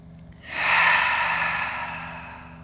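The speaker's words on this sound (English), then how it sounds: "you could exhale all of your air out. And then breathe in." A single long, audible exhale during a yoga session, starting softly and swelling into a breathy rush that slowly fades, close and alone.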